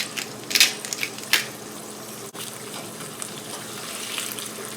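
An egg frying in a pan, a soft steady sizzle with a few sharper crackles and spits near the start, and occasional light scrapes.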